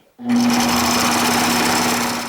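A sewing machine stitching bias binding onto children's fabric starts abruptly and runs loudly with a steady mechanical hum and rapid needle rattle, continuing alone without speech.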